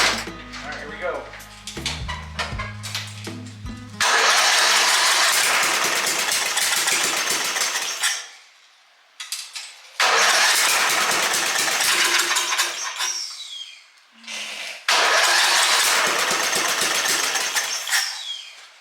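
A Murray wide-body mud mower engine fitted with a modified Chinese carburetor starts amid mechanical clatter, then roars in three loud, ragged revving bursts separated by brief drops to near silence.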